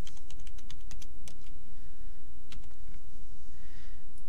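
Rapid keystrokes patter on a computer keyboard as a web address is entered, with a quick, uneven burst of close clicks over a steady low background hum, then a few scattered taps.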